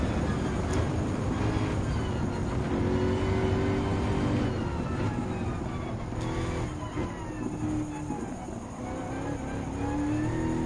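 Race car engine in Gran Turismo 7, during a European FR Challenge 550 race, droning loudly and steadily at high revs with shifting pitch as it climbs through the gears, a voice speaking faintly over it.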